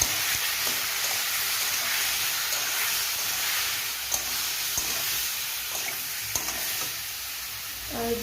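Tomato chutney fries in a pan as salt and turmeric powder go in, giving a steady, close hiss of sizzling with faint stirring scrapes throughout and no talking.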